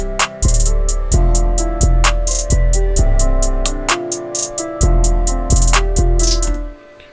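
A full beat made in FL Studio plays back loud and steady, with deep booming bass, punchy regular kicks, crisp bright hi-hat ticks and layered melodic tones looping in a tight rhythm.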